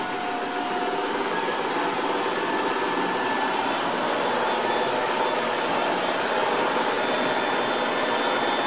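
Tineco iFloor 3 wet-dry vacuum cleaner running at max speed, a loud steady whine and rush that shifts up in pitch early on, then holds constant throughout with no talking.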